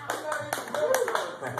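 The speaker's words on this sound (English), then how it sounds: "Thank y'all so much for that kind of applause." Audience at a live country-blues concert claps in a brief burst of close, uneven handclaps, with a voice speaking through it.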